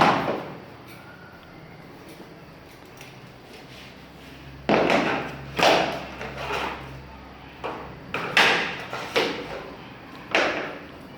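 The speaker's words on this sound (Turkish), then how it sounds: "Şimdi parke döşeme işini seyrediyoruz" Irregular wooden knocks and thuds from parquet flooring boards being fitted and tapped into place during a home renovation, several sharp bursts after a quiet stretch, with low background hum.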